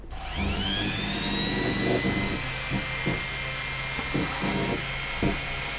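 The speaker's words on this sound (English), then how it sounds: "I'm just going to put my drill on, so it's going to be a bit noisy." An electric drill spins up to a high, steady whine and keeps running, with a few knocks and bumps underneath.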